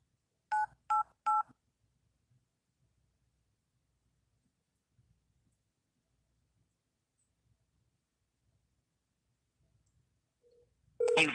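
A touch-tone telephone dials the 988 crisis line with three short, clear beeps in quick succession. A long near-silent pause follows, then a recorded voice starts at the end.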